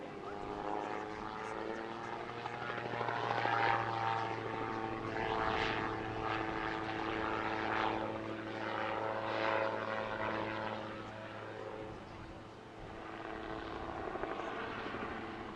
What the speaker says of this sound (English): Peter Davis was back flying his nimble Rotorsport Calidus